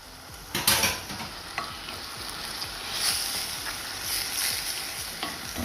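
Butter sizzles in a pan while a spoon stirs and scrapes, with a few sharp clinks, a steady close frying hiss running underneath, cooked alongside callaloo for roast fish.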